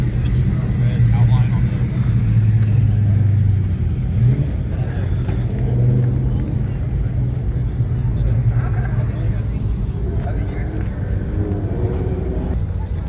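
A powerful supercharged Corvette engine roars and revs nearby at a car show, a deep throaty drone rising and falling, with crowd chatter in the background.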